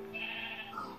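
Sheep bleating in the Minecraft video game, a single wavering bleat lasting about a second, clear and fairly close with no talk over it.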